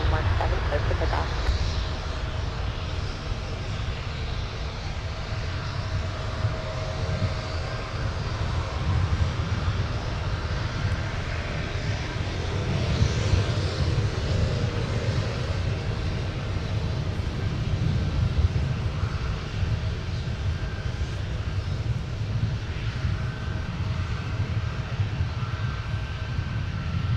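Aircraft engines roar steadily at Minneapolis–Saint Paul airport as a plane takes off from runway 17, a broad sustained rumble heard from a distance, with faint radio chatter in the background.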